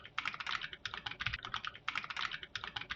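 Code is typed on a computer keyboard in quick, steady bursts of crisp key clicks with brief pauses, close and clear, with no talking.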